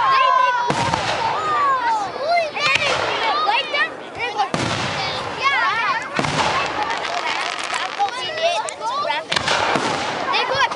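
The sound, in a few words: Canada Day fireworks exploding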